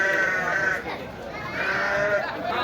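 Sheep bleat amid the bustle of a livestock market in Aleppo, a couple of drawn-out wavering calls rising over a dense background of crowd noise and voices.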